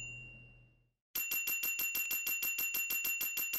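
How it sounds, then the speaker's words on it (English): A bright bell-like ding repeats rapidly and steadily, about four strikes per second, after a brief fading tone and a moment of silence. "and adding a repeating ding sound,"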